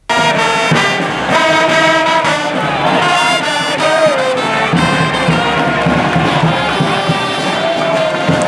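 A small crowd of spectators in a football stadium cheers and applauds a goal, a loud, continuous swell of voices and clapping with shrill whistle-like tones threading through.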